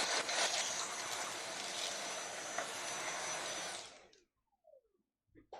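A Dyson vacuum cleaner runs with a steady, loud, high whooshing roar for about four seconds, then cuts off abruptly, followed by a few faint handling clicks.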